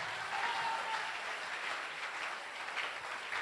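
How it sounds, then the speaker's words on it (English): A church congregation claps along together, a broad steady wash of many hands that stays fairly distant and even throughout. "Are you clapping those hands?"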